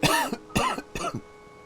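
Three harsh, close coughs in quick succession, each a short rasping burst, then quiet.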